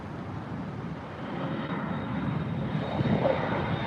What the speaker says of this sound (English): here's another flight taking off.